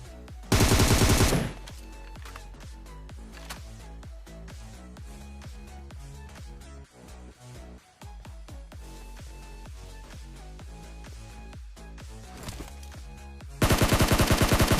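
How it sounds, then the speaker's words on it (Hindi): Rapid bursts of gunfire from a PUBG-style battle royale game keep going without letup, with a heavier blast at the start and another near the end, all loud and close. "वहां पे फायरिंग करते रहता हूँ और भाई बंदे को पड़ती है गोलियां"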